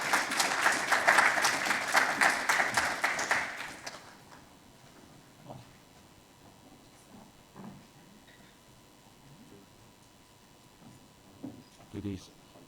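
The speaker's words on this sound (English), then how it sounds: "Round of applause, please," Audience applause at a staged event, loud sustained clapping for a few seconds that then stops, leaving quiet room noise with scattered small knocks and movement.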